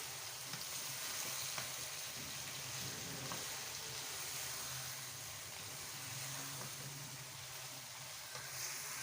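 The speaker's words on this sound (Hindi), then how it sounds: "अब हम इसको अच्छे से मिक्स कर लेंगे।" Potato and eggplant curry sizzling and frying in a pan while being stirred, a steady close crackle with soft scraping, no talk.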